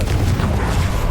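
Confringo spell blast from Hogwarts Legacy: a brief, heavy low-end boom that rumbles steadily with no break, loud and close, with no clear talking over it.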